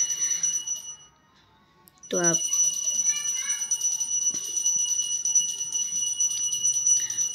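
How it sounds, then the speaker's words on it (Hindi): A small bell rings for the evening lamp-lighting prayer, a steady metallic ringing that carries throughout at a moderate distance. Someone speaks over it, with a brief gap in the middle. "और कहीं घंटी बज रहा है, दिया बत्ती, साँझ, क्योंकि साँझ हो गया ना"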